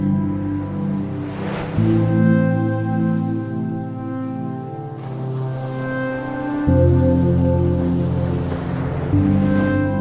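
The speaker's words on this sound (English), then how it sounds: "Waves and wind." Steady ambient wash of ocean waves and wind beneath a sustained, layered musical drone that swells and shifts in two places; the surf sits softly inside the tonal texture rather than alone.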